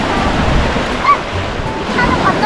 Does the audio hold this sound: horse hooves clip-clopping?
no